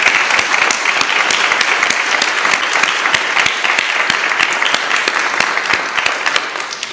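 Congregation at an Estonian thanksgiving church service breaking into sustained applause, a dense, loud wash of many hands clapping continuously for several seconds with no talking over it.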